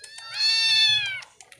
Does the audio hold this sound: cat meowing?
yes